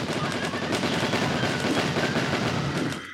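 M12 machine gun firing in the Stick Fight video game: a dense, continuous rapid-fire burst, loud and close, lasting about three seconds before cutting off.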